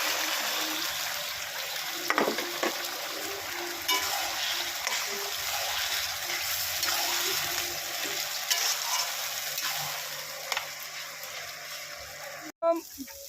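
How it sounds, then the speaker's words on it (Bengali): Banana stem tipped in among browned onions in a pan sends up a steady, fairly loud sizzle and frying hiss that runs throughout, with occasional stirring scrapes and a sharp knock near the end. "পেঁয়াজটা লাল হয়ে গেছে, এখন আমি এই থোড়টাকে দিয়ে দিচ্ছি"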